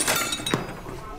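A plate smashes with a sudden, sharp crash of breaking crockery, heard under people talking.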